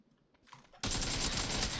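Sudden burst of rapid automatic gunfire in PUBG, starting abruptly after a quiet moment and continuing loud and sustained to the end.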